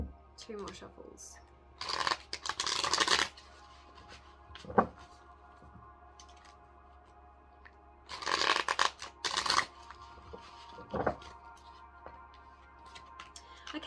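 A deck of playing cards is shuffled up close in two crisp, rapid riffling bursts several seconds apart, with quieter handling and soft taps in between over a low steady hum.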